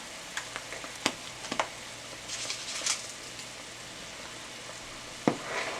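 Palm butter sauce simmers and sizzles softly in a pot while a spoon stirs it, with scattered clinks and scrapes against the pot over a low, steady bubbling.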